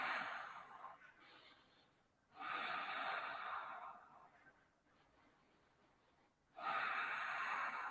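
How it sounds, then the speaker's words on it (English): Deep, slow breaths during a beginners' yoga session: three long, airy breaths close to the microphone, each a sustained rush of air separated by quieter pauses. "Breathe deeply."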